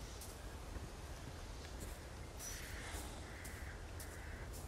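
Crows caw in the video game Resident Evil 4 Remake, a few calls standing out over a steady, low-level ambient background with no talking.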